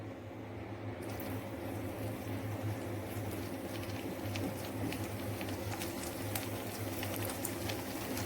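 Paneer sesame balls shallow frying in hot oil, a steady dense sizzle and crackle holding at an even level throughout, close and continuous with no talk.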